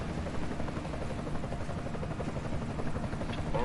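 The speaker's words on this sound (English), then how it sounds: "Enemy helo sighted." Enemy helicopter in the video game Deus Ex: Mankind Divided, a steady dense rotor thrum holding at moderate loudness throughout with no talk over it.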